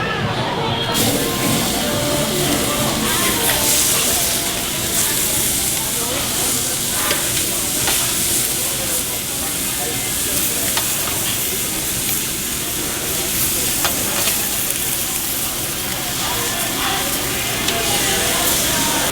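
Cajun-seasoned shrimp sizzle on a Korean BBQ grill at an all-you-can-eat restaurant, a loud continuous hiss and crackle close by, with restaurant chatter underneath.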